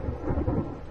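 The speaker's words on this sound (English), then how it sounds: "this evening, it's the Beijing summer rain, which most definitely is setting the mood" Summer rain falls in Beijing with a deep rumble of thunder rolling through a brief stretch of steady rain hiss.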